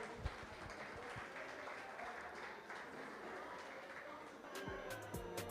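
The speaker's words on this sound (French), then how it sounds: "applaudissez-les bien fort" An awards-ceremony audience applauds, a soft, steady patter of many hands heard at a distance, with voices talking over it.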